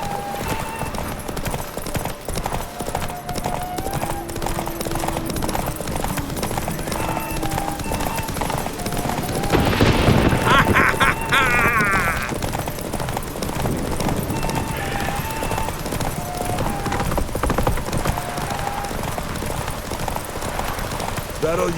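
Galloping horses in a race in The Witcher 3, a rapid clip-clop of hooves that runs throughout under excited voices, with a louder burst of activity midway.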